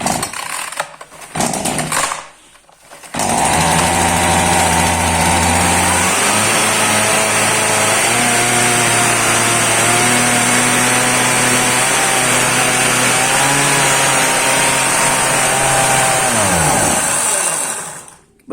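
A Secho 4100 petrol chainsaw runs loud and close for about fifteen seconds after brief handling noise, its engine note wavering and surging as the tank runs nearly dry before it cuts out.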